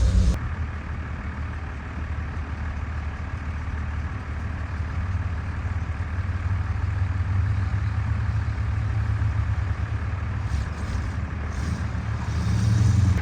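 A 1993 Dodge W350 pickup with a 12-valve Cummins diesel idles steadily and close by, a continuous low rumble with a faint rise near the end and no talking.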